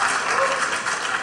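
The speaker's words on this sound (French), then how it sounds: "on l'applaudit parce qu'il est extra." Steady applause from an audience at a lecture on molecular gastronomy fills the whole moment, dense and continuous clapping with a faint murmur of voices underneath.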